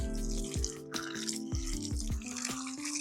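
Water sloshes and drips while soaked country chicken is being washed, with a series of close splashes and pouring sounds under a faint steady background hum.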